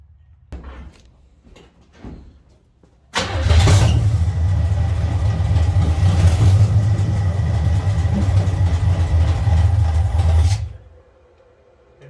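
The engine of a 1970 Chevrolet C10 pickup truck turns over and catches, then runs loud and steady at idle for several seconds before cutting off, with no talking.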